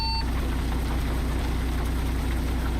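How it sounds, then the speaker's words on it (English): Simulated Caterpillar C15 truck engine from the ZEEMOD MBN sound pack in American Truck Simulator drones at a steady low idle, a continuous rumble that stays even throughout with no talk over it. "we are running the ZEEMOD C15 MBN engine and sound pack"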